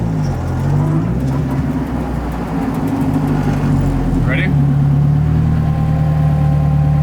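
A street-legal car's engine rumbles loudly at close range from inside the cabin, with a low, steady drone that swells as it revs; a person speaks briefly over it.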